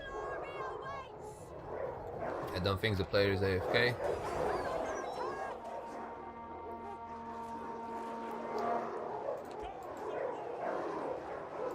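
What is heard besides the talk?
war dogs barking in Total War: Arena video game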